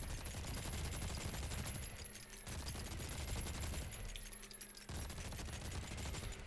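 Rapid gunfire rattles during a strafing run in ARK Genesis 2, coming in fast, dense bursts broken by two brief pauses, faint overall.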